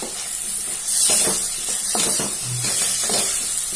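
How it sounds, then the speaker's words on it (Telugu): Spring onions and green chillies hit a pan of frying mushrooms, giving a steady bright sizzle with a few stirring scrapes over it. There is no talking. "ఇందులో మనం ఇప్పుడు కొద్దిగా స్ప్రింగ్ ఆనియన్స్ కట్ చేసుకున్నవి, ఇంకా కట్ చేసుకున్నటువంటి పచ్చిమిర్చి వేసుకుంటున్నాను"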